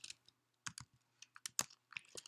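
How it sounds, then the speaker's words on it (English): Typing on a computer keyboard during a math lesson, heard as quiet, irregular bursts of key clicks with short pauses between them and no voices. "I'm looking at my notes while I'm typing."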